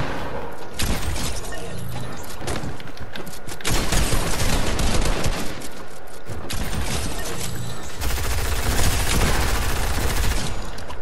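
Rapid gunfire in an online shooter game, dense bursts of automatic fire and cracking shots that continue almost without pause for about eleven seconds, loud and close, with no talking over it.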